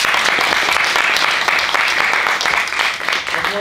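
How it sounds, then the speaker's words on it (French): An audience at a fashion judging show applauds the final duo with loud, sustained clapping from a crowd close by, an unbroken wash that tapers slightly near the end. "on applaudit le dernier duo, s'il vous plaît"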